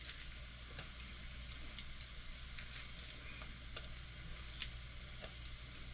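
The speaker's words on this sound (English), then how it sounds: "by boiling that beef jerky in my little cast iron pot here." Beef jerky boiling in a small cast iron pot, a faint steady bubbling and sizzling hiss with occasional light ticks and clinks, no voices.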